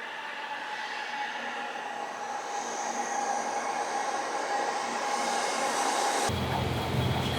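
Interior of a Shinkansen bullet train running in Japan, a steady close rushing hum with a faint high tonal whine, the noise shifting abruptly near the end.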